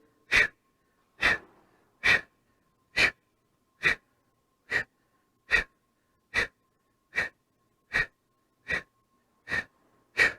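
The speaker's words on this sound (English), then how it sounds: "Every time I bring my leg around, I'm exhaling." Steady exhalations during a leg circle exercise: a dozen short, breathy puffs in an even rhythm, close and clear against silence, with no talking.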